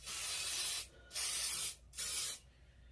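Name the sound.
spray bottle spraying hair product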